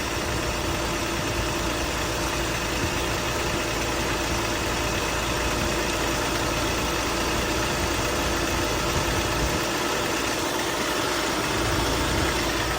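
A used car's 1.6-litre engine idling, a steady close rumble with a constant mechanical hum that runs unchanged for the whole stretch, with no voices over it.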